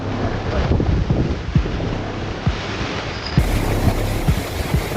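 Floodwater rushes through a flooded cotton field in Jariya village, a loud continuous wash buffeted by wind gusts on the microphone, with no speech.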